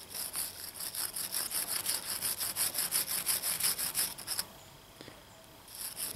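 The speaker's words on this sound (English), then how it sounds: "Just gonna use a wire brush and polish them a little bit." A wire brush scrubs battery cable connectors in quick, even back-and-forth strokes, a close raspy scratching that runs about four seconds, pauses, then resumes briefly.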